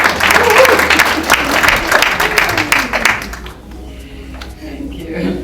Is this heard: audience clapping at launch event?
yes